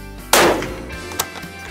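One loud, sharp shot cracks up close and decays into a brief rumble, followed by a fainter metallic click a moment later.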